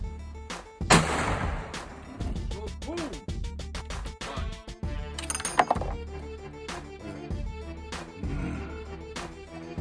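A newly bought gun is fired at a target outdoors, its sharp report standing out among several loud, broadband bangs and clatter, with voices talking around the shots.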